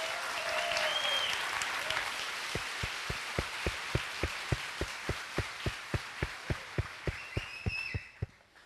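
Steady applause from a church congregation during a service fills the background, and a run of sharp, evenly spaced claps emerges in the middle, ringing out once or twice per second before fading.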